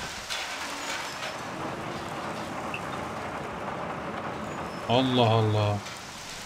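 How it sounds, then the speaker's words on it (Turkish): In the video game Mafia, rain drums steadily on a roof overhead, a soft, even patter that continues throughout while someone briefly speaks near the end. "Yağmurun tepedeki şeye vuruşunun sesine kadar yapmışlar."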